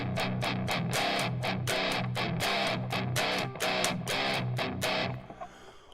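Electric guitar through a fuzz distortion preset in the Tonebridge app, strummed in a steady rhythm of loud, thick, saturated chords with a fast black-metal feel, ringing out and cutting off near the end.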